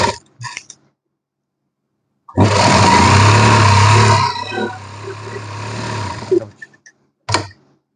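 A sewing machine stitches the seam of a palazzo pocket in one steady, loud, close run lasting a few seconds, with brief handling noises before and after.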